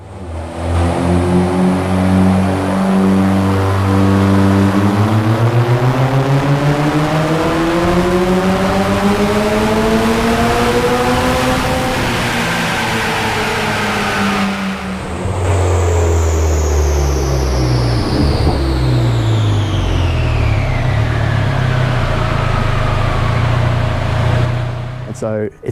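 A tuned Mitsubishi Evo X of about 400 wheel horsepower runs hard on a dyno, its engine note rising loudly through the revs, dropping at a gear change and climbing again to a sustained roar.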